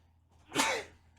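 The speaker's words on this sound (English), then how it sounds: "Oh my goodness, I have to sneeze." One sharp, close sneeze bursts out abruptly and trails off in a breathy hiss, with quiet around it.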